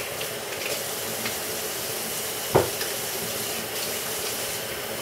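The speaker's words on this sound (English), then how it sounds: "So I'm going to wash my hands real quick." Hands being washed under a running kitchen tap before making flour tortillas, a steady broadband rush of water lasting throughout with one brief splash or knock midway; no talking.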